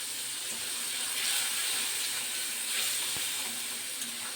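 Spice masala with salt and turmeric frying in a pan for an egg and mustard dish, giving a steady, close hiss and sizzle with no voices.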